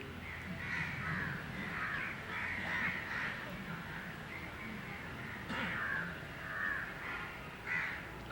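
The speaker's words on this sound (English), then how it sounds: "Even the birds agree." Crows caw repeatedly over a steady low background hum, the harsh calls coming in several clusters across the stretch, moderately loud and fairly close, during a public talk in Madras.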